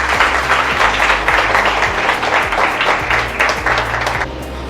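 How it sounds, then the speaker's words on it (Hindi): A large audience claps loudly together in continuous, dense applause, a steady wash of hand claps lasting several seconds without pause. "मैं चाहता हूँ कि इस तरह के सिंसियर लोगों के लिए एक बार आप खुद के लिए जोर से ताली तो"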